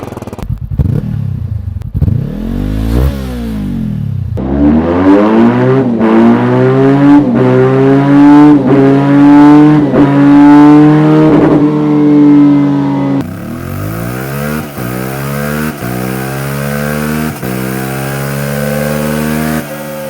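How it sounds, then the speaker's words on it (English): Loud motorcycle engines revving up and down through the gears, with rising and falling exhaust notes and sharp shifts, close and continuous. "Let's roll the exhaust notes."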